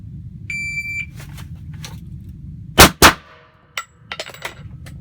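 A pair of loud, sharp Glock pistol shots cracks close together after a draw from a concealed inside-the-waistband holster, followed by a few fainter metallic clinks over a steady low hum.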